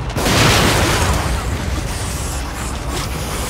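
A single loud blast from an explosive barrel shot in The Evil Within booms out at once and then fades into a rumbling, crackling decay over a few seconds.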